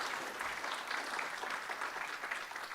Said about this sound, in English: give the two presenters a round of applause